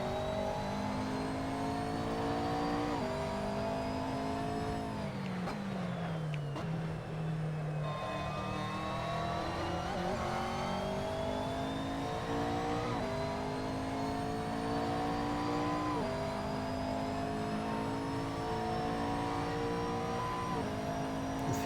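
A V8 race car in a racing video game pulls out of the pit lane, its engine revving hard through repeated upshifts, with pitch climbing and dropping at each gear change, steady and close throughout with no talk.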